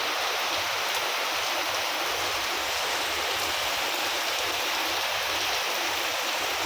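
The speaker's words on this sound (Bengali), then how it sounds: "হঠাৎ করে আবার এই যে ঝম ঝমঝমায়া বৃষ্টি" Heavy rain pours down in a steady, dense hiss with no voices, constant and enveloping throughout.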